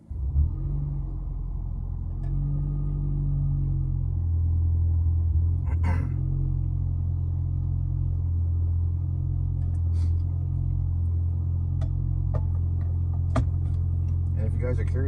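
A straight-piped Toyota Prius with its resonator removed drones with a steady, deep engine rumble while driving on a rainy morning, loud and constant, with a few faint clicks over it.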